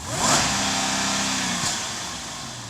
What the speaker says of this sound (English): Underneath this black plastic mess is a jewel of an engine, a 5-liter supercharged V8 making 510 horsepower.